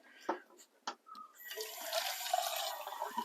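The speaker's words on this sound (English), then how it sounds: "Now our 2 tins of tomatoes, in they go, and the recipe tells me to use half a tin of water per each one" Canned tomatoes and water go into a pot for a classic lasagna: a couple of soft plops, then a steady splashing pour that builds and carries on to the end.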